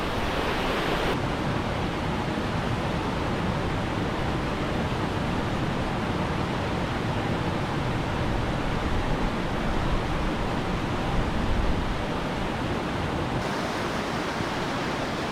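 A series of cascading waterfalls on a mountain stream in the Lake District in freezing winter, a loud, continuous rushing roar of falling water that goes on without a break and with no voices.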